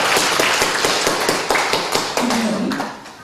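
A congregation at a church worship service gives steady applause to welcome a speaker, dense and fairly loud throughout with no talk.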